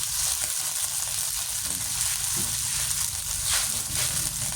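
Duck adobo with vinegar and soy sauce bubbling and sizzling steadily in a pot, a continuous close, moderately loud seething with faint stirring rustles.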